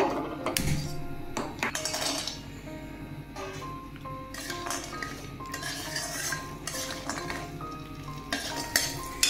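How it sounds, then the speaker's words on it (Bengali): Bori lentil dumplings frying in oil in a pan, with frequent metallic clinks and scrapes of a utensil against the pan over a steady low sizzle, loud and close throughout. "বড়িগুলো প্রথমে ভেজে নেব।"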